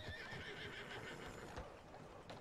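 Horse neighing in the video game Red Dead Redemption 2, a faint, drawn-out whinny with some hoof clops beneath it, no talk over it.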